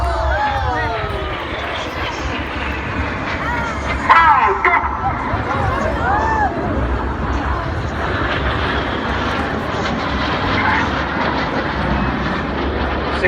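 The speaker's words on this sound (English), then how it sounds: "These 4 aircraft now descend just 100 feet above the beach" RAF Red Arrows jets flying low, about 100 feet above a beach during an air display, a loud continuous roar with whooshing passes over a steady crowd murmur.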